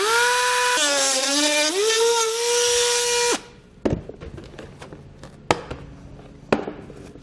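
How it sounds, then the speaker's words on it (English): A Dremel rotary tool cuts a thin plastic panel while a Curt trailer hitch receiver is fitted to a 2019 Hyundai Ioniq. Its high, steady whine dips in pitch under load for about three seconds, then stops, leaving scattered close clicks and taps. "I'm just going to be using a Dremel tool, but this is relatively thin plastic"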